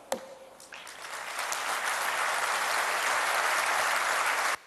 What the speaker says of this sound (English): you see a whole room of people clapping for him